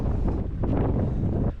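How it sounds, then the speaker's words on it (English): Strong wind gusts buffet the microphone on an exposed mountain ridge at Devil's Peak, a steady loud roar with surging rushes and no talk. "The wind made it freakier because it does blow me off a bit"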